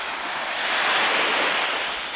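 Ocean waves breaking on Omura beach in Toyama, Japan: a loud, steady rush of surf that swells to a peak and eases off, mixed with wind buffeting the microphone, and no talking.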